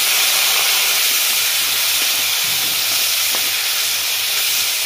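Onion paste sizzling loudly in hot oil, a steady dense hiss with no break and no talk.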